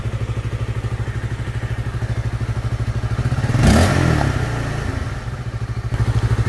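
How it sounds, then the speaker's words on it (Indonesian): A Honda CB150 motorcycle engine idles in a steady close chug, then revs up sharply for about a second before settling back to a fast, even idle, with no voices present. "Kita coba belayar."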